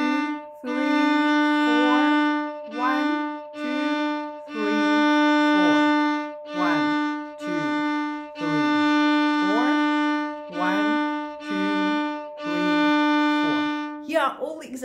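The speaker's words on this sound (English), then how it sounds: "what it looks like when I play the same thing on a violin" A solo violin plays a simple rhythm exercise in quarter and half notes, with clear bowed tones at a steady pulse. Longer held notes alternate with shorter strokes, played close and alone with no talking.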